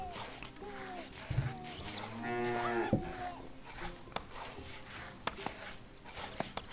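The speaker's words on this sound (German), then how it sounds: "Elsa die Kuh steht herum." Cattle in the strategy game Stronghold Definitive Edition give one drawn-out moo over soft game ambience and occasional clicks, while someone talks quietly underneath.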